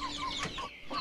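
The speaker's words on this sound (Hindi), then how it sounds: "छोटे चूज़ों को और मुर्गों को मैंने अभी दाना नहीं डाला" Chickens and roosters waiting to be fed cluck a few short, nearby calls in a brief burst, with no talking.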